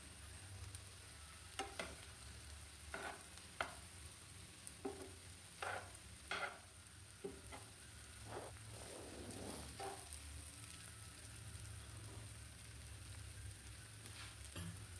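Ghee sizzles in a pan of cauliflower being cooked as a diet dish, with a steady soft fry hiss and scattered scraping stir strokes, moderately quiet and with no voices.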